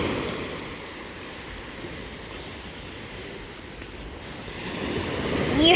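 Ocean waves break on a beach in a steady wash of surf, close and fairly loud, swelling toward the end as another wave rolls in, with some wind noise across the microphone.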